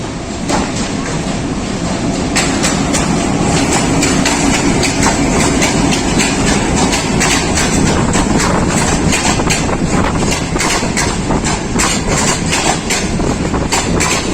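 A Pakistan Railways Green Line express behind an HBU20 locomotive passes close by, making a loud, continuous roar with a rapid clatter of wheels on rail joints throughout.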